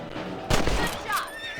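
Rifle shots fired at rabbits in the Western video game Red Dead Redemption, a sharp loud report over steady outdoor ambience, followed by a fainter echoing tail.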